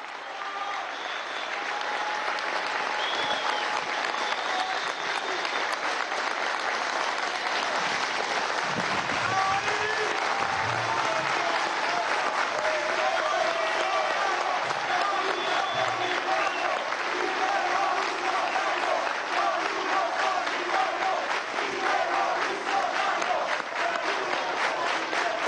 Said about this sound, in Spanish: un gran aplauso para Iris Varela